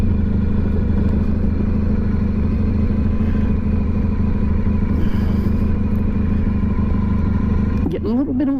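A Honda ST 1100 motorcycle's engine drones loud and close, rising on the throttle with a steady rumbling tone and a brief shift in pitch near the end.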